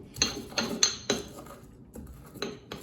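A few sharp, knocking hits of a pestle on garlic in a mortar, from a collector's set, come in irregular strikes with short pauses, close and clear with no talk.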